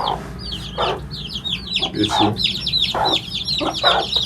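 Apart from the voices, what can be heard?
hens clucking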